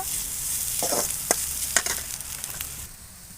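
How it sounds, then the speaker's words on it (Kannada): Grated coconut frying in a pan for a South Indian coconut palya, heard as a soft, close sizzle broken by a few sharp scraping stirs of a spatula against the pan, with no voices. "ನೋಡಿ ಚೆನ್ನಾಗಿ ಹಿಂಗೆ ಕಾಯಿನ ಹುರ್ಕೊಳ್ಳೋಣ"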